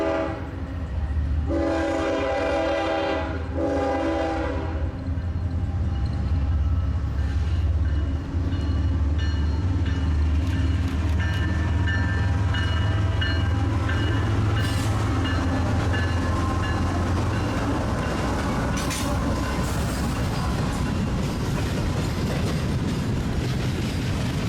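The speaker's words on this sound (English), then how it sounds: "this super long CSX train reminded me" A long CSX freight train rumbles past up close in Cordele, Georgia, its horn sounding early on over a steady, loud roar and clatter of rolling cars, with no talking.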